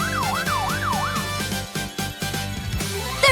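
A police car siren wails in three quick rising-and-falling sweeps over about a second, then gives way to a busy, pulsing backdrop of other sounds with no speech.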